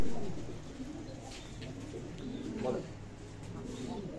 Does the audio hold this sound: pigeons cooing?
yes